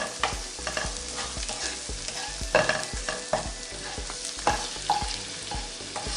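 Spices, including salt and coriander powder, fry in a pan for a beans egg curry, with a low sizzle punctuated by regular, prominent stirring scrapes and taps, close up with no voices.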